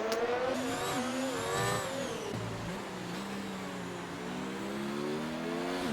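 Formula 1 cars in race traffic, a Ferrari passing a Mercedes, heard as a continuous high engine whine with rising and falling pitch through shifts, steady and moderately loud with no voices.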